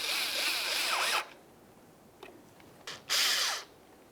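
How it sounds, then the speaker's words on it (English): A power screwdriver whirs in two short bursts while snugging a Phillips head screw into a grille mounting panel on a 2006-2012 Ford Fusion bumper, close and fairly loud, with quiet handling clicks between the bursts and no talking. "Go ahead and start in that Phillips head screw and snug it up."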